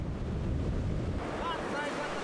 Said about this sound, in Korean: 아, 파도가 높아서 너무 높아서.